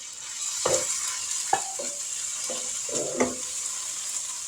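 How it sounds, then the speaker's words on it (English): Canned Rotel tomatoes tipped into hamburger meat frying in a pan, giving several short sizzling bursts and stirring scrapes over a steady background hiss. "We're going to add some rotel tomatoes."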